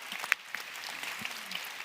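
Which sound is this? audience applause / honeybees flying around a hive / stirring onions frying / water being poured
audience applause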